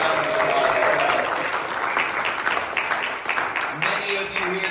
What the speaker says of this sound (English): Give them a round of applause for us.